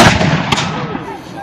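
A single boom of light artillery cannon fire, a 6-pounder at a battle reenactment, bursts loud and close at the start, then rolls away in a long echoing decay.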